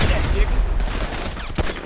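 Rapid gunfire during a gunfight in GTA 5, a dense fusillade of close, overlapping shots with a sharp burst near the end, all in under two seconds.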